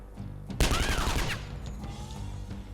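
A loud burst of rapid gunfire from the video game Skyshine's Bedlam erupts after a quiet start, a dense volley lasting under a second before trailing off into low background game sounds.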